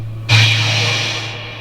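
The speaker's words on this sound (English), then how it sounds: "that's pink noise, that's taking out most of the fundamental overtones." A sudden burst of pink noise from a Minimoog synthesizer switches on and holds steady, with a low hum underneath, slowly fading slightly toward the end.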